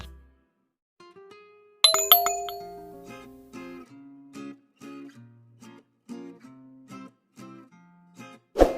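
A bright notification bell effect rings out alone: a sharp ding with chiming harmonics, then a run of shorter clinking tones in a quick melodic pattern, ending with one final strike.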